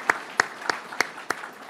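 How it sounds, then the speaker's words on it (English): Five sharp, evenly spaced claps ring out in a slow, steady rhythm at a state broadband event, close by and clear, with no crowd swell behind them. "Let's give Rachel a round of applause for your work that you do."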